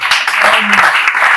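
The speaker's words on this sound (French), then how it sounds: "Si vous m'entendez, applaudissez." A church congregation at a Sunday worship service applauds together, a steady, fairly loud wash of clapping with a few voices mixed in.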